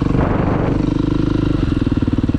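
Motorcycle engine held at steady revs in a fairly high gear, third, during wheelie practice, a loud continuous harmonic drone close up with a slight shift in pitch partway through, no voices over it.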